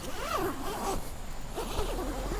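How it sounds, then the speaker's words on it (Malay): A double zipper on the door of an OZtrail Fast Frame Lumos Blackout 6P tent being pulled, a rasping zip sound with a speaking voice talking over it throughout. "So zip dia lancar, smooth lah."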